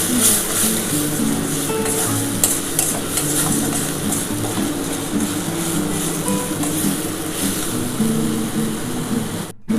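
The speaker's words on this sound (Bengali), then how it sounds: "এবার ভালো করে এটা একটুখানি কষিয়ে নিতে হবে" Spiced masala with a little sugar is stirred and sautéed in a small amount of oil for a chicken curry, a continuous close scraping stir over a soft sizzle, steady from start to finish.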